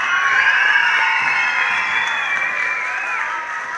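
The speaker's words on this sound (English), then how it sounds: "Let's give a nice round of applause for all the performances." Children clap and cheer for school music performances at an elementary music festival, with high excited voices whooping over steady, dense applause that fades slightly toward the end.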